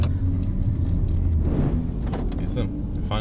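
A BMW E61 M5 pulls away, its low engine rumble steady and close from inside the cabin, with a brief rise in intensity midway as it drives off; people talk over it.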